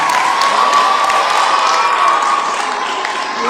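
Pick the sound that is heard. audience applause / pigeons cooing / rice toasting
audience applause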